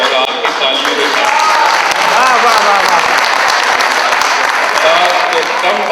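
Audience at a poetry recital breaks into loud, sustained applause, dense clapping filling the room steadily throughout, with some voices mixed in.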